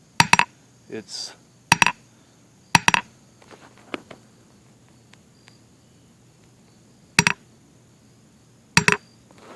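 Sharp metallic hammer strikes on a hardfaced Harbor Freight anvil ring out in separated pairs of quick rebounding taps, several blows spaced across the clip, with a brief word spoken between them.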